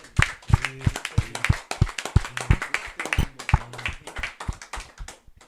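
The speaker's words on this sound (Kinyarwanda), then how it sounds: "icyo tubanze tugihe amashyi" Hands clapping at a church choir gathering, a run of sharp, uneven claps close by, fairly loud and scattered rather than a full crowd ovation.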